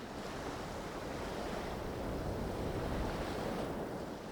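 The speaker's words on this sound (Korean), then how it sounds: "해변은 북서풍이 몰고 온 파도를 그대로 받는 곳입니다" Sea waves driven by a northwest wind break onto an island beach, a continuous broad surf roar with wind noise, steady and fairly loud, swelling slightly midway with no talk.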